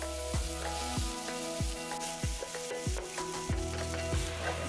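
Vegetables sweat in a frying pan already used for browning meat, giving a steady sizzle, while a separate rhythmic scraping or rubbing repeats roughly every second in the foreground.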